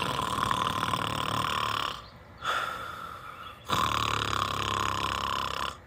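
A voice mimics the heavy snoring of a very large man, two long rasping snore cycles with a brief breath gap between them, close and loud.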